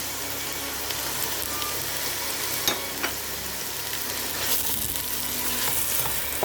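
Curcuma, ginger, black pepper and salt are stirred in a hot pan for couscous, a steady close sizzle of frying with a few faint scrapes and taps of the spoon, no talk.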